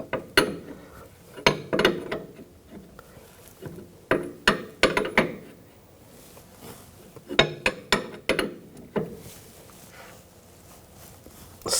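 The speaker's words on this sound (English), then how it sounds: "Tighten up the jam nut." Sharp metallic clinks and ratcheting clicks from a wrench tightening the jam nut on a front outer tie rod of a 2000-2006 BMW X5, coming in irregular bursts with short pauses between, close and fairly quiet.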